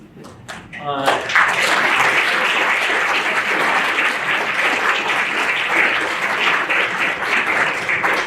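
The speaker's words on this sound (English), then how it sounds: "I didn't even have to ask for the round of applause for that, Charles" An audience at a library award ceremony breaks into a round of applause, starting abruptly after a brief voice and continuing as dense, sustained clapping.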